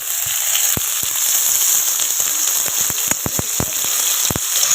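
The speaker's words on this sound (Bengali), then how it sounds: "মশলাটা এরকমভাবে ভালো করে কষিয়ে নেব" Ginger-garlic paste and spices fry in a pan, a steady close sizzle with sharp spatter pops and the clack of a spoon stirring through it, no voices.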